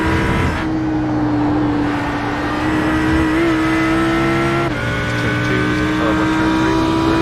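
Race car engines from the iRacing sim at New Jersey Motorsports Park's Thunderbolt course hold a steady, loud drone with a sustained engine tone, running continuously without pause throughout.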